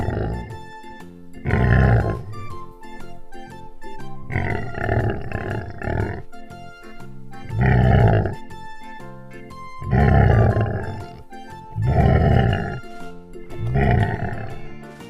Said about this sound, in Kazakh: Торай